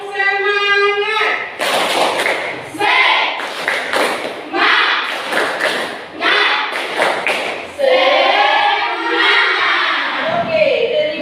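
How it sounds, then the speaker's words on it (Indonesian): A classroom of children doing a rhythmic spirit clap led by their teacher, loud group claps and thumps in repeated patterned bursts mixed with chanting and voices throughout. "Mari kita tepuk semangat."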